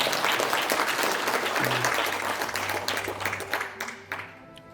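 Audience applause at a rally in a National Assembly members' hall conference room, starting full and busy, then thinning out and fading into scattered claps.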